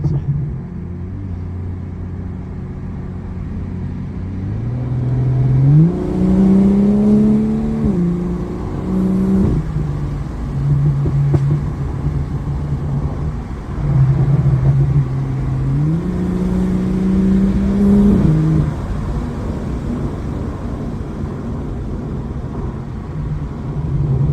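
A BMW 140i's B58 engine, tuned to 500 hp, revs repeatedly inside the cabin, deep droning rising in pitch in two surges with gear changes, over a constant road rumble.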